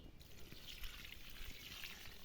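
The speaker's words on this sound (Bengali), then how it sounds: "আমরা হচ্ছে চাল ধোয়া" Rice being washed in water, a faint steady trickling and swishing of water close by with no talking.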